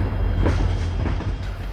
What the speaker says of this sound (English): After passing of Goa Express, a freight train arrived. It was very slow, so I recorded only locomotive then.